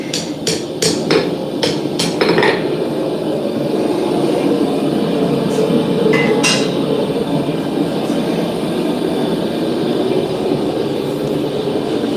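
Sharp metallic hammer strikes ring out in a quick cluster near the start at a blacksmith's forge, then a few more isolated blows later over a steady mechanical hum.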